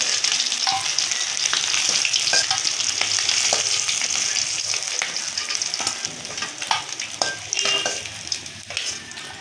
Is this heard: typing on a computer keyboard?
no